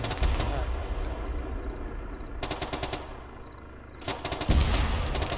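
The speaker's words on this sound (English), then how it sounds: "That's an autocannon fire." Autocannon fire from a BMP-2 in a video game, rapid bursts of heavy shots that come in separate volleys with short pauses between them, loud and fairly close over steady background noise.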